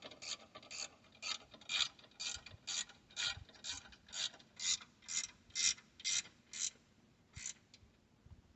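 A ratchet wrench clicks steadily while a bolt is tightened down on the seat of a Ford 3600 tractor, a long run of rhythmic metallic clicks close by and fairly quiet, with a few brief pauses.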